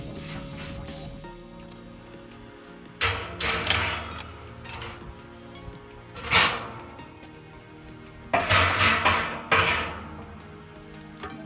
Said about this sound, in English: just give them a clean with a little bowl of foil